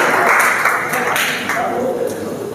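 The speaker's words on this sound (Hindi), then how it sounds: "जोरदार तालियां हमारे डॉक्टर सईद अहमद फरहानी साहब माइक पर" Applause from an audience in a hall at a humour poetry gathering, a dense steady clapping wash that continues throughout, loud and close, with some voices mixed in.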